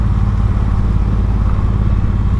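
A Triumph Bobber motorcycle engine runs with a loud, continuous low rumble and wind roar, heard up close while riding.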